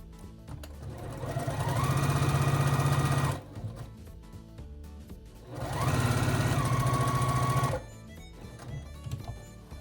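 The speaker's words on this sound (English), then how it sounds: "I have a lot where I'm sewing two together" A sewing machine stitches quilt pieces together for a quilted heart on a sweatshirt in two steady bursts of a few seconds each. The rapid, even mechanical hum is close, with quiet handling noises in the pause between them.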